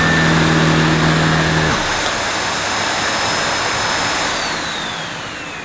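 A Sebo Dart 1 commercial upright vacuum cleaner runs with a steady, loud broadband roar. After about two seconds the low motor hum drops away, leaving a softer, continuous airy whoosh.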